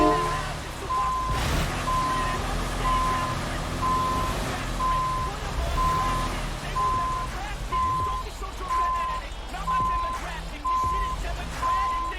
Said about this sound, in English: And back into our trailer.